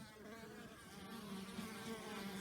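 A steady, dense buzzing of many honey bees coming and going at a hive entrance, with a low droning hum, continuous and fairly close, with no voices.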